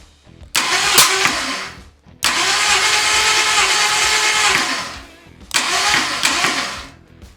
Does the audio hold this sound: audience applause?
no